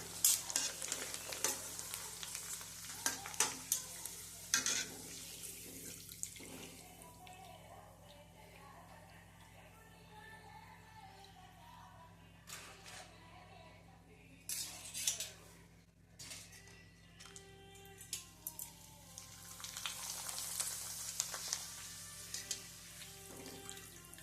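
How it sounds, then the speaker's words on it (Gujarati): Gujarati khichiya papad crackles and fizzles in a pan with the gas turned off, with quiet intermittent scraping and stirring sounds and soft sizzle bursts, fairly faint and close. "આપણે ગેસ બંધ કરી દીધો છે અને પાપડ આપણે નાખી દીધો છે."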